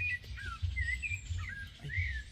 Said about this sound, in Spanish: los pajaritos nos vienen a levantar